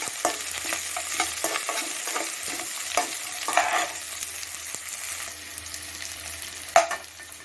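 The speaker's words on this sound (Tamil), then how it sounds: "வெங்காயம் வந்து கொஞ்சம் நல்லா ப்ரௌனாக வதக்குங்க" Onions sauté in a pan for an egg podimas, with a soft continuous sizzle and scattered spatula scrapes and clinks, one louder knock near the end.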